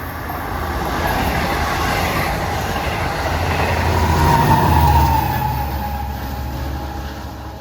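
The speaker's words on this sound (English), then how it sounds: "our last diesel out of Port Jeff is 621, bound for Hunters Point Avenue." Long Island Rail Road diesel passenger train from Port Jefferson bound for Hunters Point Avenue passing a rush-hour station, a loud steady rumble and wheel roar that swells toward the middle and then eases.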